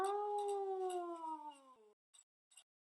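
A person's voice imitates a howling wolf in one long sustained howl that slowly falls in pitch and breaks off, followed by two faint short sounds.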